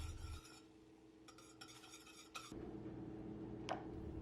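Quiet scraping and clinking of a utensil stirring teriyaki sauce in a pot, in short bursts, with a low steady hum underneath.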